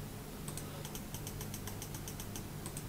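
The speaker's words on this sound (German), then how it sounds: "Ich glaube, in meiner Aufnahme hört man meinen Mausklicken immer so extrem" Rapid, light clicking of a computer mouse during a Tekkit Lite game, a quick irregular run of close ticks over a faint steady background hiss.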